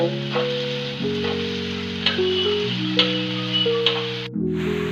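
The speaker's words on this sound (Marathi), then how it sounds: "कांद्यामध्ये मीठ टाकलं का नाही आपला कांदा पटकन लाल होतो आणि लवकर भाजला जातो" Onion with half a spoon of salt fries in a pan for a Marathi dried-fish gravy, with a steady close sizzle under music with sustained tones.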